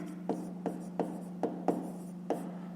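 Pen strokes on paper at a desk during a fifth-grade maths exercise: six short scratchy taps and scrapes spaced about half a second apart, close and fairly quiet, with a steady low hum underneath and no talk.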